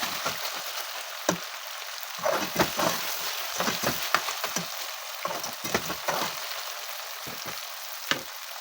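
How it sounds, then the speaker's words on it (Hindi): Vegetables and minced meat fry in oil with a soft, fairly faint hiss, interrupted by a series of sharp scraping and tapping stirs bunched through the middle, close by and free of speech. "अब ये सब्ज़ी अच्छी तरह से फ्राई हो गई है।"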